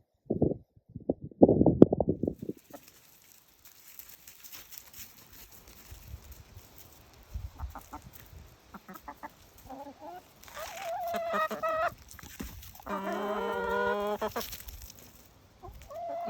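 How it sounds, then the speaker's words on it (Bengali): Backyard hens of assorted colours cluck and murmur in a garden near a crab apple tree, with a few sharp bursts early, then scattered soft clucks building to rhythmic, close clucking calls near the end. "এই যে আপনাদেরকে মুরগিগুলো দেখাচ্ছি"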